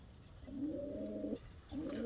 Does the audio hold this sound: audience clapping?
no